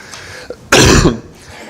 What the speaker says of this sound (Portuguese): Peço desculpa que eu vou tossir algumas vezes